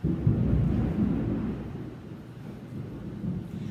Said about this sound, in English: that was thunder. We're just having an afternoon thunderstorm here in Texas.